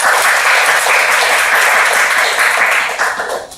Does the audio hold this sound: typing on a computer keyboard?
no